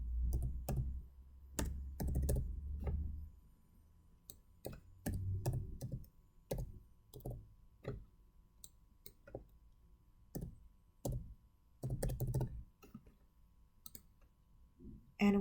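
Computer keyboard typing player IDs, scattered quiet key clicks in short irregular bursts with pauses, soft and close, alongside a low background rumble early on.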